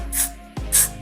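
Got2b Glued spray applied to a synthetic lace frontal wig, two short hissing aerosol bursts close up, separated by a brief pause and a soft knock.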